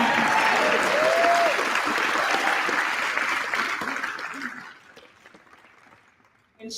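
An audience at a DNC LGBTQ+ kickoff event claps loudly and continuously, then the applause fades away to near silence.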